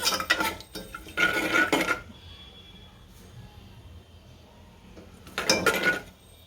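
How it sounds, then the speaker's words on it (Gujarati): Almonds heated and stirred in a dry pan while making fada lapsi: three bursts of rattling, scraping stirring with metallic clinks of a spoon against the pan, close, with quieter pauses between. "આપણે બદામ નાખશું. બદામ ગરમ કરી લેવું."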